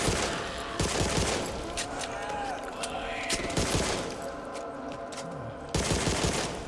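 Hip-fire bursts from a weapon in the video game Back 4 Blood, sharp repeated gunshots in clusters with rapid cracks and echoing tails, loud and dense over a busy game soundscape.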